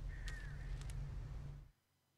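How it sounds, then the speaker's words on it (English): A crow caws once over a steady low ambient rumble in the video game Alan Wake, then the sound cuts abruptly to near silence. "Darn birds."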